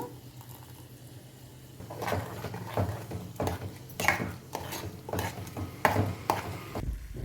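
Paramannam in a pot is stirred after jaggery syrup is poured in, with a quiet start followed by a run of close, wet scraping and clattering strokes in an uneven rhythm.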